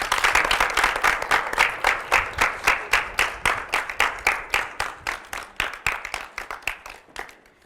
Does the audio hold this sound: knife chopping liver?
no